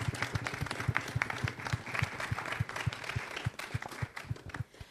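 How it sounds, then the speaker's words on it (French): An audience applauds at a supply chain round-table conference, with steady, fairly faint rapid clapping from a modest crowd lasting throughout. "Merci Mohamed Awari, on peut l'applaudir."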